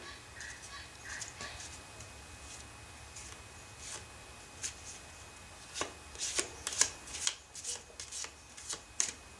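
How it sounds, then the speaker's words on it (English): Oracle cards are riffled and shuffled close up, starting soft and building to a series of crisp, snapping bursts toward the end. "hold the intent, then shuffle the cards"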